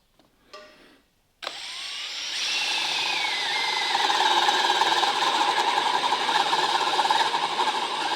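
A power drill bores a 9 to 10 mm hole into a block of lumber, starting with a short whir, then running as a steady, loud grinding whine that builds and holds to the end.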